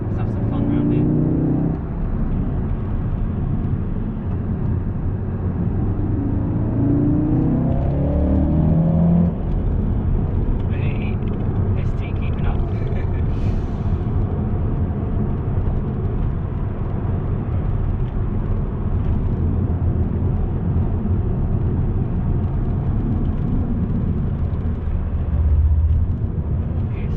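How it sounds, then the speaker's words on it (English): A mid-engine, rear-wheel-drive Porsche Cayman sports car with a combustion engine drives along with a steady, droning engine and road noise from inside the cabin, while a voice talks over it at times. "the Cayman for me, sports car, mid-engine, rear-wheel drive, a combustion engine"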